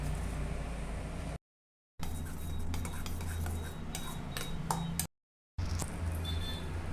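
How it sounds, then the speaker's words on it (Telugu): A spoon beats and stirs spinach, coriander, salt, chilli powder and turmeric into omelette egg batter in a bowl, quiet clinking and scraping strokes broken by two short silent gaps, no talking. "పాలకూర కూడా వేసి కలుపుకుందామండి."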